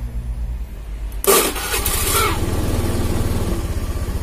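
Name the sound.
motorcycle engine starting and idling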